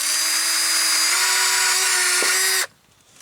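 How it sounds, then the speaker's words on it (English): A worn power drill runs at steady high speed for a couple of seconds while drilling a hole for a well, its pitch dipping briefly as it bites, then stops abruptly, leaving near silence. "I drill my hole"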